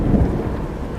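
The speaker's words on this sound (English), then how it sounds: "This doggone rain stop, I'll punch it on up there a little faster." Heavy rain and a low thunder rumble in American Truck Simulator fill one second, a dense steady wash with deep rolling bass.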